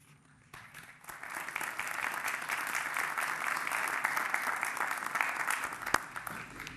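Audience applause at a Nobel Prize fiftieth-anniversary ceremony, starting softly, then swelling into dense, steady clapping from a large crowd that carries on for several seconds.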